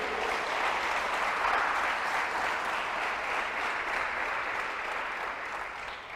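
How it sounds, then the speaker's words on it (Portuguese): An audience at a Portuguese-language talk applauds stay-at-home mothers with steady, even clapping that carries on throughout, moderately loud and slowly fading toward the close. "Dá um aplauso às mães que são do lar aí."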